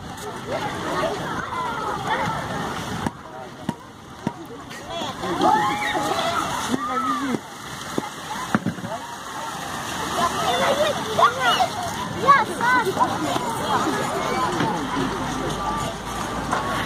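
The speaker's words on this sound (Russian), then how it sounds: "Такой антистрессовый фонтанчик." Splashing children's park fountain in Oryol, water sloshing and spattering steadily as wind carries the spray, with nearby voices and babble and some passing traffic mixed in.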